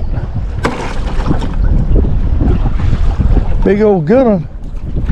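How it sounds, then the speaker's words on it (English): Wind buffeting a microphone out on a lake during a fishing trip, a constant loud rumbling roar while someone speaks briefly over it. "Well, that wind blowing now, huh? She blowing."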